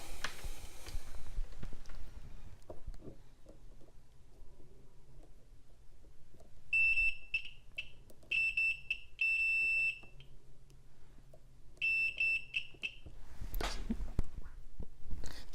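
A continuity tester checks connections on a perfboard 8-bit computer circuit, giving several short, high, quiet electronic beeps in separate bursts against a faint room background.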